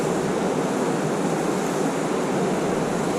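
Swift, fast-moving water of the Truckee River off Highway 80 in California, a steady, loud broadband rush close by with no breaks or voices.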